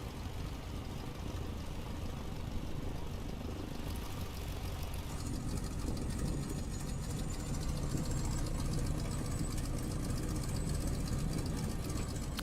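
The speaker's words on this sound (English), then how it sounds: "The engine noise is just good." Simulated radial engine of a Stearman biplane in a flight simulator game, a steady rumbling drone with a fine rapid pulse that holds at an even, moderate level and shifts slightly in tone partway through, with no talk.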